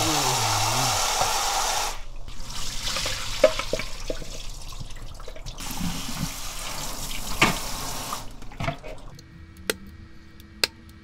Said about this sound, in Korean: 이렇게 소금기를 씻어낸다고?